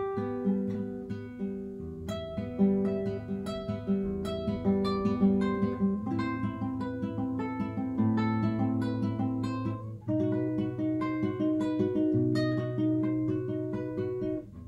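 A guitar plays through the rest of a piece in a teaching demonstration, with a steady stream of plucked notes and ringing chords for about fifteen seconds, moderately loud and with no talking.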